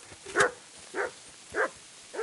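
A dog in the video game Kingdom Come Deliverance 2 barks four times at an even pace, each bark short and clear with quiet gaps between them.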